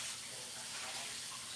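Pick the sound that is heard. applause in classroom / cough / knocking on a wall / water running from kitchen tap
water running from kitchen tap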